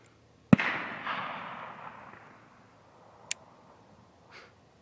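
Distant rifle shot during a Pennsylvania deer drive hunt, one sharp crack followed by a long fading rumble, then a second fainter report and a softer third pop far off.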